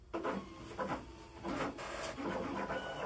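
A vinyl cutter runs a cut test, cutting out a small square. It gives a continuous whirring, scraping hum broken by short rhythmic shifts as the blade head moves. No one speaks.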